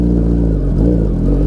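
Suzuki Hayabusa sport bike engine idling loud and steady close by, a continuous deep rumble with slight wavering, no voices over it.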